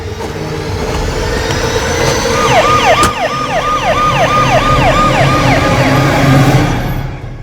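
A wailing ambulance siren sweeps up and down repeatedly in a steady cycle, heard over continuous traffic noise.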